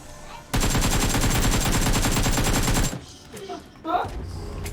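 Gunfire in the mobile battle royale game PUBG Mobile: a loud, rapid automatic burst lasting about two and a half seconds, followed by quieter voices talking.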